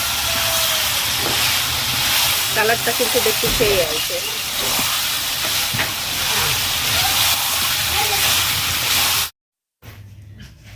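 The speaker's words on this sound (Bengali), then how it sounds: "মুরগির মাংসটাও কিন্তু দিয়ে দিচ্ছি চুলাইতে এটা একটু ভালোভাবে ভাজা ভাজা করে কষাই নেবো" Chicken pieces and potatoes fry together in a pan on a stove, giving a steady broadband sizzle and hiss while a person talks over it; the sound cuts out abruptly near the end.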